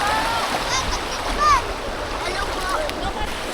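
Water splashing in a clear, rocky river at San Jose as people bathe, steady rushing flow with a louder splash near the middle, voices and chatter mixed in throughout.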